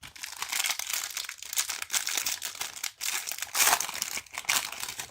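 Crinkly plastic wrapper of a Bowman Blaster trading card pack being torn and opened, bursts of close crackling and tearing, no speech.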